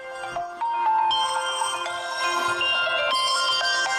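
A mobile phone rings with a repeating electronic melody of stepped, shifting tones, fairly loud and continuous, with no voices over it.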